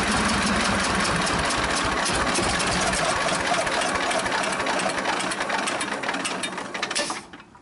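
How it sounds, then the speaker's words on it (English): A Belarus tractor diesel engine idles roughly on only two cylinders, a loud, dense and steady clatter that keeps running unchanged before easing off at the very end. "Running good, running on two cylinders."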